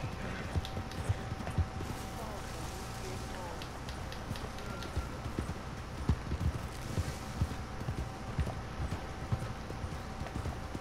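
Horse hooves clip-clop steadily at a trot in Red Dead Redemption 2, a continuous rhythmic patter with a faint whinny, while a person talks over it.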